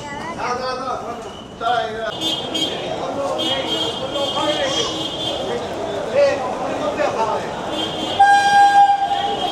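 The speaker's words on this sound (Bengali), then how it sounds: "ট্রেন আসছে" A train rumbles into a village station over loud platform chatter, with a sustained horn sounding near the end.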